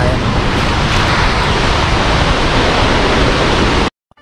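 Pagayawan waterfall in Bacolod, Lanao del Norte roars as a steady, loud broadband rush of falling water. It holds constant for about four seconds, then cuts off abruptly into near silence.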